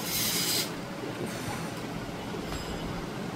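A toy train played with indoors, giving a steady rattling, whirring rumble with a brighter hissing burst in the first half-second, then an even mechanical drone throughout.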